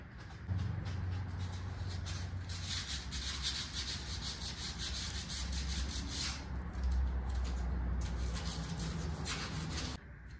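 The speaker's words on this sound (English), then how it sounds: "I need to get some sandpaper and run down this crack." Sandpaper rubs along a crack on a part from a modified 351 engine in a steady back-and-forth rasp that runs for about ten seconds, close and moderately loud, with a low hum underneath.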